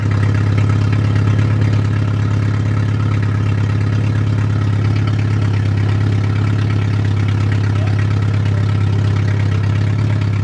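A car engine running after a thermostat replacement, idling with a loud, steady, close drone and low hum throughout.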